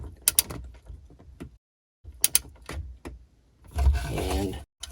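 A hand tool works on a fuel injector of a 2003 Sea-Doo GTX 951DI engine, giving sharp clustered clicks in two bursts, then a longer grinding, scraping stretch near the end, all close and without talk.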